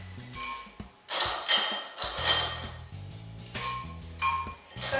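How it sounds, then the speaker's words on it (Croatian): Ice cubes drop into a blender jar over a green spinach smoothie, making several hard clinks and clattering bursts in quick succession, close and fairly loud. "I na to dodamo par kockica leda."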